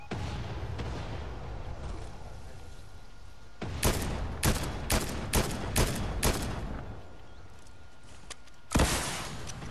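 Gunfire in a video game, loud and fairly close: a burst of evenly spaced heavy shots, then a single sharp blast, all over a low rumbling background.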